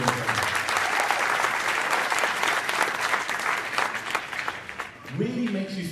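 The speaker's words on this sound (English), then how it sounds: "a round of applause for your panel." Sustained applause from a conference audience welcoming a debate panel on law enforcement engagement, a steady dense wash of many hands clapping that fades slightly near the end as a voice begins.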